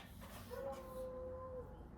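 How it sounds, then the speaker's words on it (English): A dog howls outdoors in one long sustained wavering tone over steady background noise, heard alone at moderate distance. "He likes to bark at the squirrels and anything else that moves."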